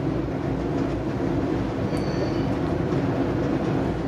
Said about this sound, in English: this is my first time riding on a Stadler FLIRT type commuter train